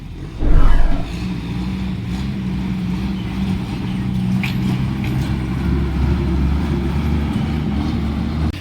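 Road traffic rolls past, with one loud vehicle surging close by at the start and then a steady drone of engines and tyres from passing cars and trucks.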